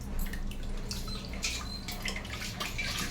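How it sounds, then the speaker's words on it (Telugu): Water poured into a pot for making rice starch to stiffen cotton shirts, a continuous splashing, trickling pour with small drips, close by and fairly quiet, with no voices. "కొంచెం నీళ్ళు పోసుకున్నాం."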